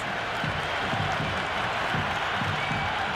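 A cricket ground crowd claps and cheers in a continuous wash after a big hit flies into the stands, heard from a distance with faint voices mixed in.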